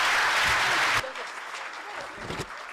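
Applause at a pharmaceutical society conference, a full burst of clapping that cuts off abruptly after about a second, followed by quieter room sounds and murmuring voices.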